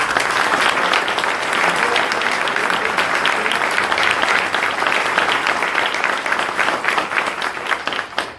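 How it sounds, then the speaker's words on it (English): Crowd applause at an American Job Center ribbon cutting ceremony on Joint Base Lewis McChord, a loud, steady rush of many hands clapping that holds evenly before tapering off at the end. "please give a round of applause for Alfie's leadership in that regard"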